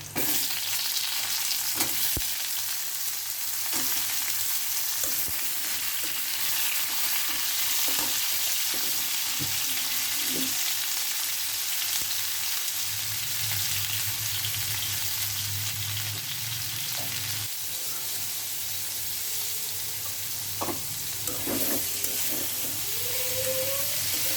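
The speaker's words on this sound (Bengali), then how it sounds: "মশলা কষে উঠছে এখন হলো ইলিশ মাছ দিয়ে দিব" Spices fry in a pan for a hilsa fish curry, giving a continuous loud sizzling hiss with occasional stirring scrapes and small pops throughout.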